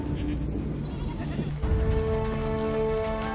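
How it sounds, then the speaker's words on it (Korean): Sheep and goats bleat repeatedly while the herd moves, several overlapping calls at mid distance over a constant rumbling background. "마지막으로 양과 염소 같은 작은 동물들이 따릅니다."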